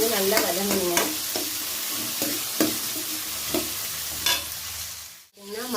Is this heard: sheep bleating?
no